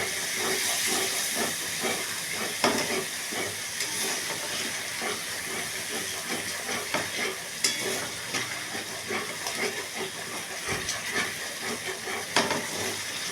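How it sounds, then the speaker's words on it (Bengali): Water added to a spice paste frying in a pan for a small rohu fish kalia, a loud hissing steam and sizzle that runs throughout, with scattered stirring clicks, close and without speech. "একটু জল দেবো সামান্য, যাতে মশলাটা পুড়ে না যায়"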